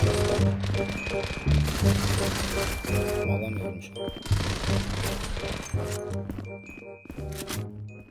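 Rapid automatic MP5 gunfire in the mobile shooter game Zula, repeated short bursts of crackling shots with clinking effects, set under continuous game audio.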